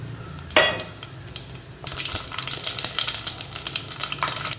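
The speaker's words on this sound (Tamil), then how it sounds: "கடுகு ஜீரகம் வெந்தயம் பொரிஞ்சிருச்சு" Mustard seeds, cumin and fenugreek splutter in hot sesame oil, an initial sharp burst followed by dense, continuous crackling and popping that stays close and lively.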